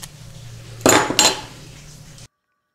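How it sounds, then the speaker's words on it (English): Two quick, sharp metallic snips from nippers cutting pieces of natural inlay material for a turned wooden bowl, loud and close over a low steady hum, then abrupt silence. "Just going to nip off some pieces that are too big."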